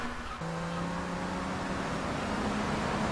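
A steady car engine in Grand Theft Auto III drones with a rising, humming tone, continuous and fairly close, no talking.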